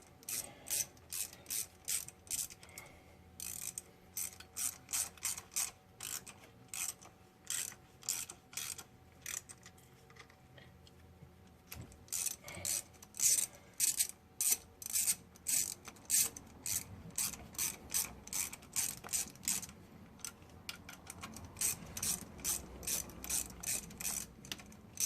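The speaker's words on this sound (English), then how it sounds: "You want to run your bolts in evenly on this." A ratchet runs in bolts during timing chain installation on a 2006 Cadillac CTS 2.8L, with close, quick clicking bursts repeating in an even rhythm and brief pauses between runs, no talking.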